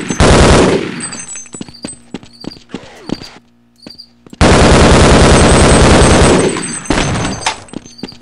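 Rapid automatic gunfire from Half-Life: Blue Shift, loud and close, in two long sustained bursts separated by a short lull of sparse shots and echoing impacts.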